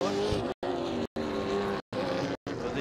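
Race cars lapping at a motor racing championship round, engines droning past in repeated bursts separated by brief dropouts, moderately distant with steady tonal whine.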